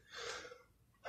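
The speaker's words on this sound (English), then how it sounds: "I'm trying to catch my breath talking here." A single close, heavy gasping breath after a punch bag workout, loud and breathy, fading at the end with a short new intake.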